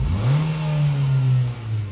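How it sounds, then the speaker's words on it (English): A Nissan Qashqai engine revs up and holds a steady, smooth mid-pitched drone close by, easing off briefly near the end before picking up again, with no talking. "Engines are very smooth and healthy."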